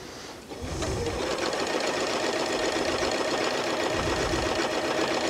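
Janome Horizon 9400 sewing machine running steadily and stitching straight across a fabric seam, a loud close continuous hum with fast needle rhythm that starts after a brief pause and holds without talk.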